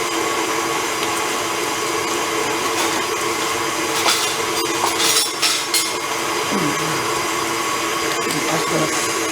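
An electric mixer whirs steadily through oatmeal cookie dough, a loud continuous motor drone with a few knocks and scrapes against the bowl, and a voice speaks briefly over it.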